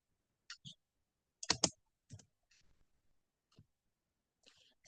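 Computer keyboard keys clicking while code is typed, a few sparse, quiet bursts of taps spread across a near-silent pause.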